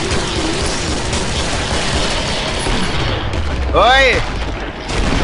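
Grenade blast and gunfire in a horror shooter game set on a West London map: dense, continuous rumbling combat noise with a sharp, ringing burst near the end, under an excited voice.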